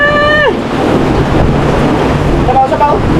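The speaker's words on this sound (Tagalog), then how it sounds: "Lakas ang hangin" Strong wind buffets the microphone outdoors by the water, a loud, constant rumbling roar across the whole clip, with a voice briefly heard at the start and again near the end.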